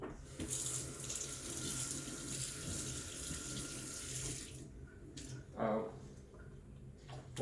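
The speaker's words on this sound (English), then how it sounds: "Rinse it under the sink." Water from a sink tap runs steadily while an espresso filter basket from a Breville Barista Touch BES880BST is rinsed under it, a close, loud rushing flow that stops partway, followed by a few faint clinks and splashes.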